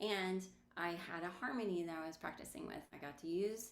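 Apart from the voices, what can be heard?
No distinct noise like a dog, phone or traffic.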